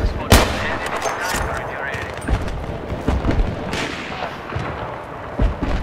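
Gunfire from the video game Battlefield 3 on a Tehran highway map, with booming shots and rapid bursts scattered through the scene, including a loud blast near the start, while a voice talks over the action.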